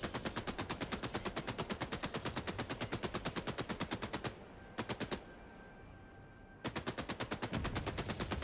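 Rapid, sustained automatic gunfire in the video game Helldivers 2, firing as a fast, even stream of close, loud shots, broken by short pauses and a longer gap before the bursts resume.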